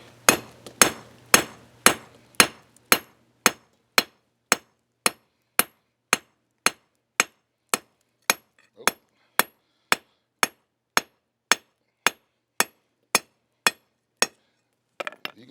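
A hammer pounds a piece of metal heated in an improvised rocket-stove forge, flattening it against a hard surface: about twenty-five loud, evenly spaced ringing blows that start quick and settle into a steady slower rhythm, with no talking.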